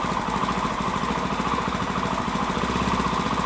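An old Saito 1.20 four-stroke model airplane engine on a quarter-scale Aeronca Champ idles up close with a steady, rapid, even putter that is loud and continuous throughout.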